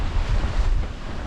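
Wind and waves aboard a sailing yacht making way against the tide, a loud continuous rush of buffeting wind over the microphone mixed with sloshing water, with no talk.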